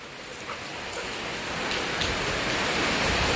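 Steady rain falls in a continuous, even hiss, moderately loud and unbroken, with no voices.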